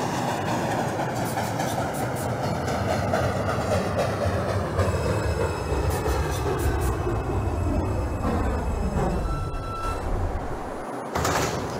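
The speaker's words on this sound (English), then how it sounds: "This is a Manhattan-bound 2 train." A Manhattan-bound 2 subway train in the OpenBVE simulator rolls along with a continuous rumbling ride and clicking wheels, its motor tone sweeping slowly, then a brief door-like thunk near the end.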